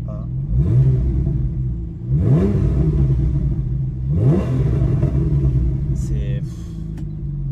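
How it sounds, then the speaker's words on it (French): A Porsche with a naturally aspirated flat-six and PDK gearbox revs repeatedly, three rising engine sweeps close by with rumble between, ending in a short whine. "je vais quand même vous faire écouter le bruit de la voiture"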